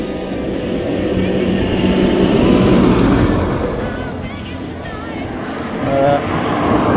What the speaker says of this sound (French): C'est les camions.